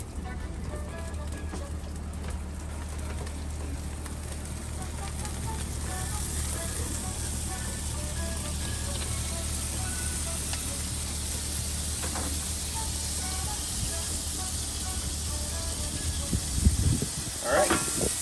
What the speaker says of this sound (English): I could squirt a little water under there, and the steam that it creates would help melt that cheese